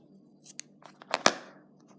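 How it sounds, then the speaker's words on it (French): Scissors snipping yarn during amigurumi crochet work, a few quick close snips ending in one firmer cut, under a low steady background hum. "et je tire le fil et après on coupe."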